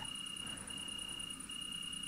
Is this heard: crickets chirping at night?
yes